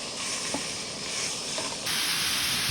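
Meat sizzling in a pan with a steady, bright hiss that grows louder and fuller partway through, close by and with no talking.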